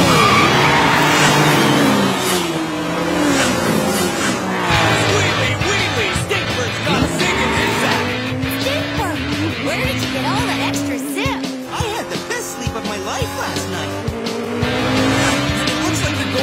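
Cartoon race cars roar off at the start of a cross-country rally, engines revving with rising pitch sweeps and tire squeals, loud and continuous under excited talk and background music.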